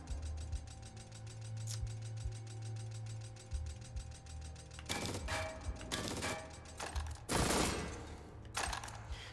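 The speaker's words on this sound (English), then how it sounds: "Just like auto turrets, I don't know if I told you, but after 3 rounds of fire, they're gonna need to reload their guns." Auto turrets in Jupiter Hell fire rapid mechanical bursts in short clusters, the later volleys louder and closer over a low droning hum, with no talking.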